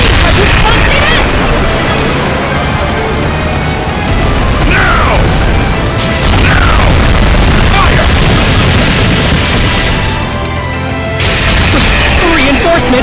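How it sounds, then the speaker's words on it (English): Cannon fire in the video game Ys X: Nordics, heavy booms and crashes over dense battle noise, with in-game voices shouting amid the blasts. "Fire the cannons!"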